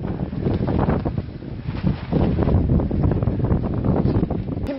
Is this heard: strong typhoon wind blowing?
yes